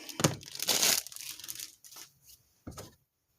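A crinkly plastic wrapper being pulled and handled at close range, a loud burst of crackling that fades into softer rustles, then one short final crinkle.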